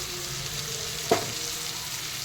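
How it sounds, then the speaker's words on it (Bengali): Potatoes fry in hot oil in a home kitchen with a steady, close sizzle, broken once by a brief clink of a utensil. "আলু তো ভাজা হয়ে গেল"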